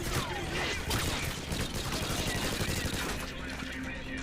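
Gunfire from leaked gameplay of the cancelled video game Modern Warfare Future Warfare: a dense, continuous crackle of rapid shots and impacts fills the whole stretch at steady loudness, with no talk over it.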